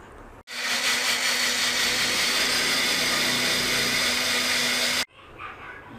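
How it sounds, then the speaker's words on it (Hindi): A kitchen blender grinds seeds and nuts with milk for a peach shake, a steady loud whirring drone running for several seconds before cutting off abruptly. "ये भी हमारा थोड़े दूध के साथ ब्लेंड हो गया, अच्छी तरह पीस गया।"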